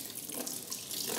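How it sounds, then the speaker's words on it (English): A faucet runs with a steady, continuous hiss of flowing water, close and even throughout, with no talking. "There's a faucet. Open it on my command, please."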